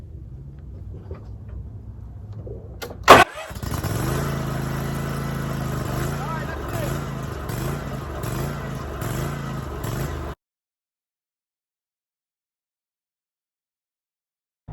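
A Toro zero turn mower engine cranking with a sharp clunk, then catching and running at a steady, pulsing idle for several seconds before cutting off abruptly into silence.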